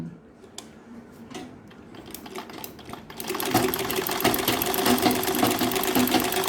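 A sewing machine fitted with a buttonhole attachment, first ticking in sparse light clicks, then running into a dense, fast, loud mechanical chatter of stitching, close and steady, with no talking.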